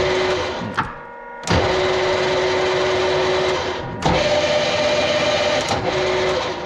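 A metal lathe with a new motor runs steadily through its gears, giving a loud, continuous mechanical whine with a sustained tone. It dips briefly near the start and changes pitch slightly at a few points.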